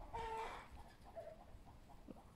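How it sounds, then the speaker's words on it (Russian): Neighbouring backyard chickens give a few faint, distant clucks and a short drawn-out call outdoors, with quiet background noise and no talking. "Но это соседские курочки поют."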